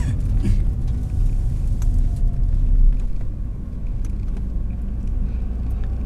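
A Ford Fiesta with a stick shift drives slowly around the block, its engine a steady low rumble with road noise heard from inside the cabin, swelling slightly midway and continuing throughout.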